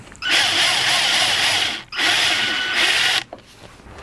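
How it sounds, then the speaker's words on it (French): A power drill bores out two rivets on a Peugeot 205 GTI plate, two loud, close, steady whining runs of about one and a half seconds each, separated by a brief pause. "je perce les 2 rivets"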